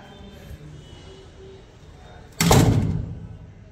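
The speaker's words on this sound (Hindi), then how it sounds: "बंद हो गया दरवाजा भी।" A door swings shut in a home with a sudden loud thud that fades over about a second, after a stretch of quiet room noise.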